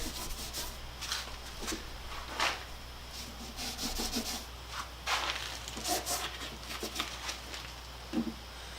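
Hand sanding over nicks and dings on an old wooden tool box, a series of short, soft rubbing strokes in irregular bursts, fairly quiet and close, with no talking.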